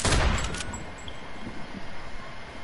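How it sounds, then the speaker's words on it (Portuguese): A sniper rifle shot in Fortnite: one loud, sharp crack at the start, followed by a fading rumbling tail and faint background noise. "Bala de sniper"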